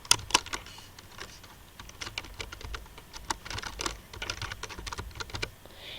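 Rapid, uneven keystrokes on a computer keyboard as a file name is typed, with clicky taps running steadily through the six seconds at moderate, close range and no voices.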